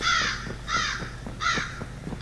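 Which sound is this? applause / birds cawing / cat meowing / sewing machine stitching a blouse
birds cawing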